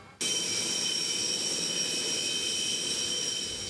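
Military jet aircraft roaring as it accelerates down a runway, a loud, steady, close engine blast with a high whine, starting abruptly and holding at full power without any voices.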